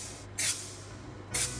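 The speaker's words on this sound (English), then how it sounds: "and then you're ready to spray." A spray can applies black coating to a car's rocker panel in two short, close hissing bursts separated by a brief pause, the second burst starting just over a second after the first.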